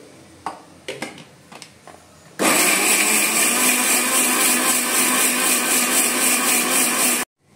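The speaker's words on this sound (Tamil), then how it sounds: "அடிச்சுட்டு அதுக்கப்புறம் தண்ணி ஊற்றணும் மிக்சியில்." A kitchen mixer grinder blending coconut chutney with ginger starts after a few knocks and runs as a loud, steady whirring roar for about five seconds, then cuts off abruptly.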